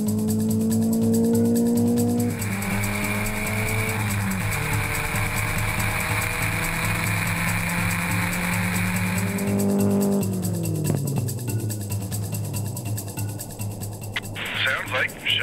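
A land speed race car roars at high revs, its engine pitch climbing through several gear shifts as it accelerates away down the course, loud and sustained with a voice faintly underneath.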